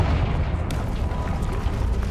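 Confringo blasting spell going off in Hogwarts Legacy, a dense rumbling boom that fills the clip, with a sharp crackling burst about two-thirds of a second in and debris-like rumble continuing after.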